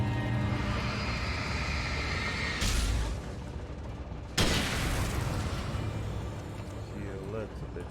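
Plane falling and crashing in the Alan Wake video game: a dense, loud roar that holds steady, then two sudden impact-like booms, the second sharper, with the rumble continuing afterward; speech-like sound may sit underneath.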